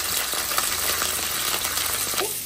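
Broccoli dropped into hot oil in a home kitchen pan, giving a steady, close hiss of frying with faint clinks and stirring scrapes throughout.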